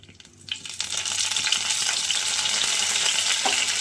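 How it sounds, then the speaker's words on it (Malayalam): Curry leaves hit hot coconut oil for avial, setting off a loud, sudden sizzle that builds quickly and holds as a dense, steady crackle with no voices. "നമുക്ക് കുറച്ച് കറിവേപ്പില ഇട്ട് കൊടുക്കാം"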